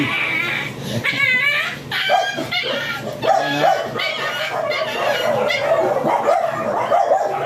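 A Pomeranian of the Chaoliya line yips and whimpers repeatedly at close range during a stud mating session, sharp high cries recurring throughout with people talking in the background.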